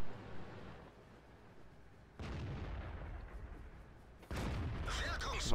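In World of Tanks, a tank shell slams into the ground with a sudden heavy boom that gives way to a sustained rumble, then a second blast follows, both loud over low background noise.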